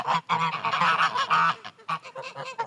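Several domestic geese, a gander and six geese, honk loudly and repeatedly nearby, overlapping nasal calls in a noisy, continuous chorus with brief pauses.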